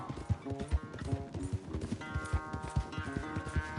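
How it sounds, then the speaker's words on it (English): A horse gallops in the video game Red Dead Redemption 2, its hooves pounding in a fast rhythmic clip-clop, close and loud under game music. "Mon cheval est trop rapide mon gars."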